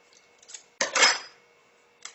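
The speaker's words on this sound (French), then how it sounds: "pour en faire une grande au jambon, pareil, on va couper environ un tiers" A knife cuts through a ham skewer with a short, close scraping crunch against a board, followed by a faint click a moment later.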